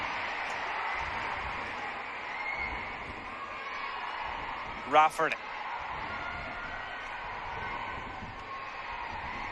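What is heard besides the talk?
football crowd cheering after a goal at Windsor Park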